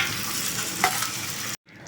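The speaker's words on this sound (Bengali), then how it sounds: "এবার সব ভাজাগুলো অ্যাড করে দেবো চিলি চিকেন।" Chili chicken fries in a pan with capsicum, onion and sauce, a close, steady sizzle broken by a spoon scraping and stirring, then cutting off abruptly near the end.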